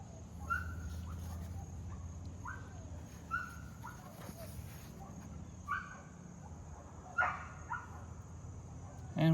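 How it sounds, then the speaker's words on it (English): A dog barks in a few short, scattered bursts at middling distance over a steady low hum, with a soft voice briefly at the end. "dog."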